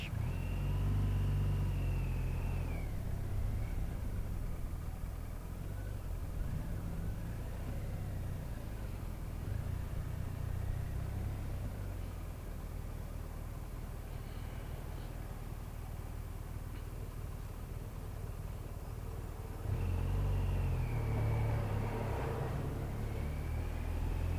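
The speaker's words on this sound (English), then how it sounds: "Let that vehicle pass." A car driving past on the road during a motorcycle riding lesson, a long low rumble that swells and fades with a brief rev, heard from the bike over steady engine and wind noise, no talking.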